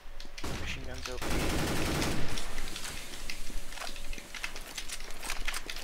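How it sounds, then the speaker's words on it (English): Machine gun fire in a CS:GO match on the Nuke map, a loud dense burst early on and then scattered sharper shots and game effects. A player talks over part of it. "Machine guns open."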